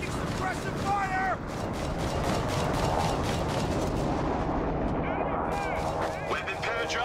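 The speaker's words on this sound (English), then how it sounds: "Taking suppressive fire!" Suppressive gunfire and artillery in the strategy game Company of Heroes 3: continuous rattling shots and booming blasts throughout, with voices shouting over the din.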